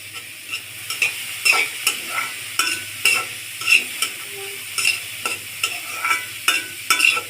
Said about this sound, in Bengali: সব কিছু ভালোভাবে মিশিয়ে নিচের পুরটা ভাজা ভাজা করে নিব।